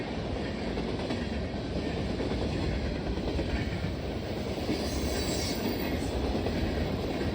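A Norfolk Southern intermodal freight train rolls past in a steady, loud rumble, with rhythmic clickety-clack from the wheels and faint wheel squeal near the end.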